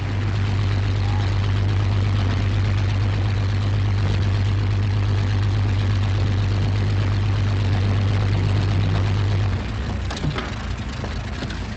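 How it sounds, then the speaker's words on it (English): A propeller airplane drones steadily nearby as it arrives and lands, the engine tone holding loud and even before cutting off sharply near the end, leaving faint background sounds. "Air Ministry plane arriving"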